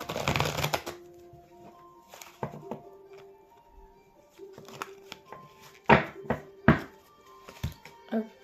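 Oracle cards being shuffled by hand in quick riffling bursts and soft taps, close and intimate, separated by quiet pauses, with a few louder shuffles near the end.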